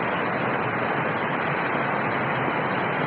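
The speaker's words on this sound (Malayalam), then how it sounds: "ഇത് കോട്ടയം ഡിസ്ട്രിക്റ്റിൽ, അതെ, മനോഹരമായ വെള്ളച്ചാട്ടം" A steady, loud roar of rushing water from a waterfall in Kottayam district during monsoon rain, a dense unbroken wash of sound with no voices.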